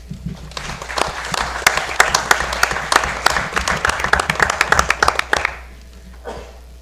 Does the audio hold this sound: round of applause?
yes